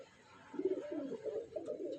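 Male pigeons in a loft give soft, low cooing that rolls along quietly for a couple of seconds, with no talking.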